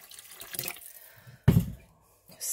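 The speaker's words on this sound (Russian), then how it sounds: "теперь я заливаю это водой." Water is poured into a pot of lightly fried ingredients for sorrel soup: soft trickling at first, then a sudden loud splashing gush that fades, followed by another short pour.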